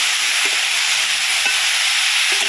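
Chopped khesari greens fry in a pan with a constant bright hiss, while a few soft scrapes of stirring mark the steady sizzle.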